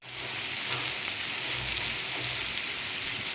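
Vegetables sauté in a hot pan for Syrian shawarma, giving a steady, close sizzle and crackle that runs without a break, with no voices.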